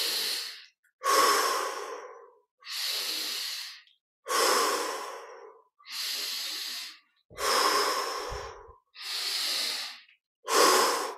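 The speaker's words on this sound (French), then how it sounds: "Encore 5 respirations." Slow, deep breaths during a guided meditation, eight long even inhales and exhales close to the microphone, separated by short silent gaps and with no talking.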